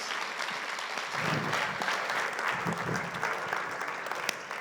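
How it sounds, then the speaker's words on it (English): Audience at SCU giving a round of applause for Les Thomas, sustained crowd clapping from start to finish at moderate volume, with a faint voice or two mixed in. "please give a big SCU round of applause for Mr. Les Thomas"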